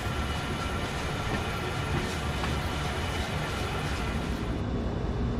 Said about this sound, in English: You can kind of see the slack of the train bouncing us back and forth right now.